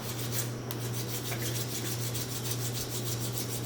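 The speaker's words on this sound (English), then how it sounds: "you're gonna have to use your sanding tools to grind them off" Quiet, rhythmic rasping strokes of sanding on small plastic parts of a 1/35 scale M114 model kit, steady and close, over a low electrical hum.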